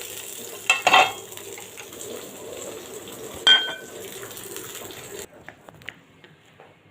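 Egg posto sizzling in a frying pan: a steady close hiss with a couple of sharp spatula clinks, cutting off abruptly near the end.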